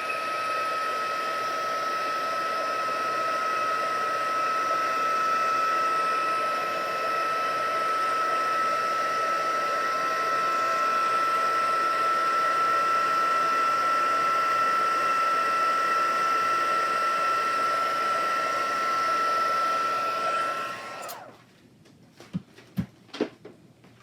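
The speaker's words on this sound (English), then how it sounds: "I'm going to go ahead and shoot it with the heat embossing gun" A heat embossing gun blows hot air over a stamped paper craft piece, a steady loud whooshing hum held for about twenty seconds before switching off, followed by a few light clicks.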